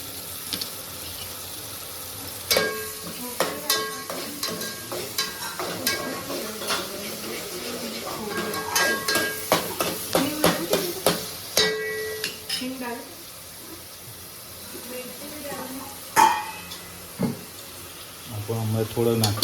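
Onions sautéing in a pan give a low sizzle, broken by irregular scraping and clinking as a spoon stirs them, with a burst of running tap water near the end and someone talking throughout.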